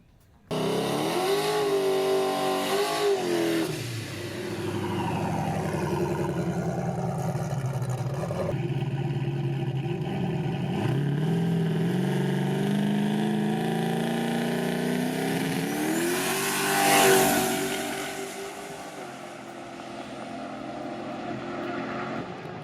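A turbocharged Chevrolet Silverado truck with a D-stroked LSX 454 engine making around 1600 wheel horsepower revs hard, its loud, close engine note rising and falling through several sweeps with a sharp turbo whoosh near the end.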